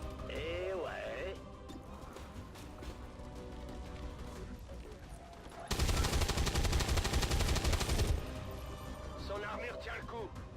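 Rapid automatic gunfire in the game XCOM 2 sounds as a dense, loud burst of about two seconds in the middle, set within busy game sounds and effects.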